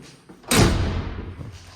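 A steel apartment entrance door shuts with one loud, close thud, and a short reverberant tail fades into the hallway.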